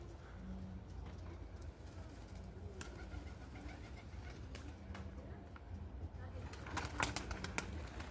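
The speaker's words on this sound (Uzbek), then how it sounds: "Mana qushlarimiz." Pigeons coo softly at mid distance in a Samarkand loft, low repeated murmurs over a steady rumbling background, with a few sharp clicks and flutters and brief voices in the mix.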